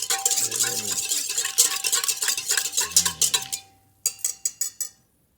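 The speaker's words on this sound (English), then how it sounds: "I'm going to mix that up with my little whisk" A small whisk beats a mixture in a bowl, giving quick rhythmic metallic taps and scrapes close by, stopping briefly and then resuming in a few short strokes.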